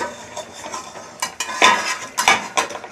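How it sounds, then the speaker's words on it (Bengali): Metal cookware clatters close by, with a few sharp clinks and scrapes as a lid is set onto a cooking pan, over a faint background of cooking noise. "চলো ঢাকা দিয়ে দিই"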